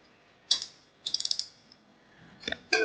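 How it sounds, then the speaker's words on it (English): A 17 mm socket wrench loosening the sprocket nut on a Sur Ron electric bike, giving a few quiet, close ratcheting clicks in short bursts separated by pauses. "You'll need a 17 millimeter socket wrench and a 6 millimeter Allen wrench to hold the nut on the backside."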